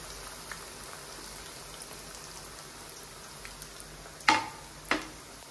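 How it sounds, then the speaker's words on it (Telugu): Aloo bread rolls fry in hot oil with a steady, soft crackling sizzle close by. Near the end come two brief louder clatters from turning the rolls, with no talking. "ఒక 2 నిమిషాలు అట్లా ఫ్రై అయిన తర్వాత మనం ఒకసారి తిప్పుకున్నాము"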